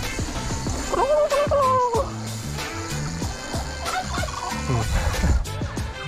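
Several turkeys gobble loudly nearby in warbling bursts, overlapping with shuffling and background noise.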